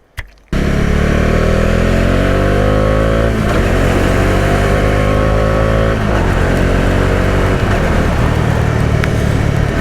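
A Bajaj Dominar 400 motorcycle engine runs loud and steady while riding, its pitch rising through gear changes after a brief quiet start.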